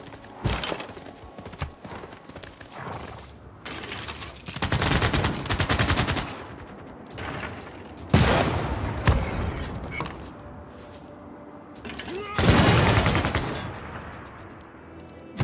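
Units trade shots in the video game Civilization VI with bursts of rattling gunfire and volleys at irregular intervals, mixed with clopping hooves and horse sounds, the loud bursts rising and falling over a quieter background.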